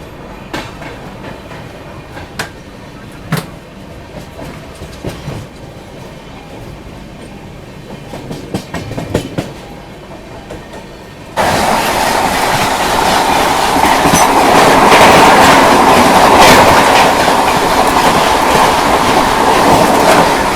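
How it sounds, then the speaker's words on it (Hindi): The LTT Mumbai–Azamgarh Express passes on an adjacent line, first as a faint approach under steady background noise, then as a loud, sustained rush of rolling wheels and clattering carriages close by. "ये थी LTT मुंबई आजमगढ़ एक्सप्रेस"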